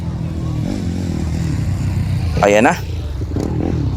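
A racing motorcycle engine roars loudly at a race heat, with a sharp rising rev burst midway over a crowded, noisy background and a voice talking.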